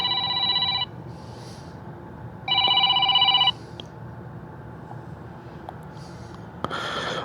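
A telephone rings in two electronic bursts, each about a second long, with a quiet room in between and a brief rustle near the end.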